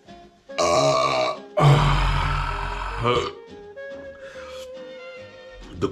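A loud, long belch after emptying a beer, rumbling for over a second, is followed by a second, louder and coarser burp. Quieter sounds trail off afterward.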